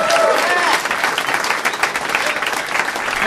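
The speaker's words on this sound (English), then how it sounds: "Big round of applause for Tom Segura, everybody." A comedy club audience loudly applauds and cheers as a comedian comes on stage, with dense clapping that fills the whole stretch and no talking over it.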